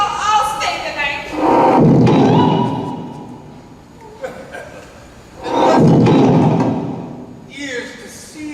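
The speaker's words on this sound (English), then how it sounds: "That was the sound of the caretakers leaving, and the doors being locked twice from the outside." Two heavy thuds of doors being locked from the outside as caretakers leave a haunted house in a stage production, each a deep booming slam with a lingering rumble, spaced several seconds apart amid faint voices.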